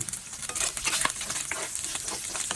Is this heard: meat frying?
yes